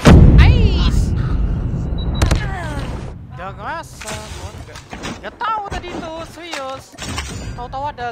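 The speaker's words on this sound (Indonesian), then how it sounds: "Tahu-tahu ada granat aja di depan mata" A grenade goes off in Call of Duty Mobile, opening with a loud, heavy blast and rumbling boom. Gunfire, game sounds and chatter from several players follow.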